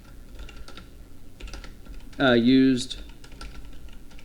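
Quick, light typing on a computer keyboard runs throughout as soft, irregular clicks, interrupted midway by a brief loud tonal burst.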